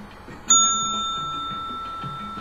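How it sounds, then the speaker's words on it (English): A single bell struck once during a ritual ceremony, its bright ringing tone starting sharply and sustaining clearly as it slowly decays, with no talk over it. "You'll hit the bell"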